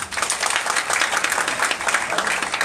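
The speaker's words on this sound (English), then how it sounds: "give a round of applause for Resh." An audience applauds a speaker at an investment gathering, steady dense clapping filling the room throughout with no break.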